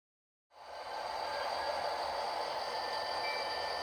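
A DCC-EX-controlled model locomotive starts up with a faint, steady whirring hum that holds evenly to the end, with no voices.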